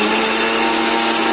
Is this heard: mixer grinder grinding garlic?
yes